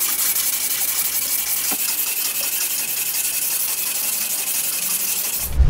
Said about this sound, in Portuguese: Agora vamos fazer um novo polimento, lixa nova.